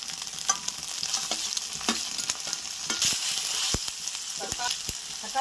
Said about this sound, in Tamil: நல்லா வதங்கட்டும் வெங்காயம்.